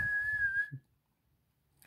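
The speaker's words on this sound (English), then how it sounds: "He blew and blew and blew, and suddenly out came a whistle." A single clear mouth whistle in a read-aloud children's story, one steady high note held under half a second over faint background sound, followed by near silence.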